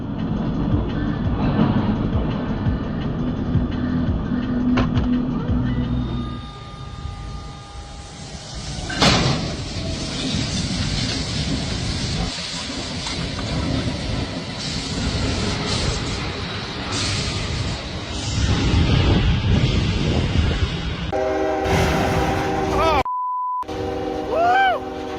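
Train rumbling along the tracks in Russia's Kostovsky district, a loud continuous roar with a sharp bang midway, shifting noise, and tonal squeals near the end before a brief cutout.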